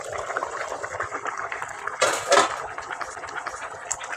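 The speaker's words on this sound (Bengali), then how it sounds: "ঢাকাটা খুলছি এখন" The lid comes off a cooking pot of lemon chicken with a brief metallic clatter and rush amid a low bubbling simmer.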